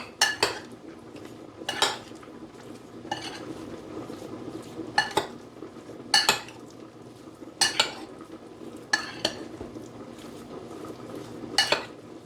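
Jamaican-style beef being stirred with jerk and all-purpose seasoning in a pot: a metal spoon scrapes and clinks against the pot in irregular bursts roughly every second or two, close and fairly clear, over a soft background hiss.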